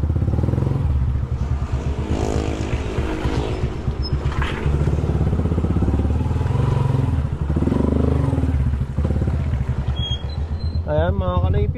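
A motorcycle engine drones steadily and loudly while riding, with wind rush and occasional clatter, and a voice talks over the engine noise.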